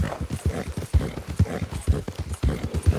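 Rascal the horse trots in Red Dead Redemption II, giving steady rhythmic clip-clop hoofbeats, close and clear, with about two strikes per second.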